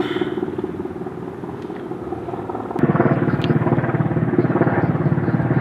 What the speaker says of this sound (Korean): 오늘 이런 식으로 계속 헬기랑 밀당하면서 촬영을 해야 될 것 같은데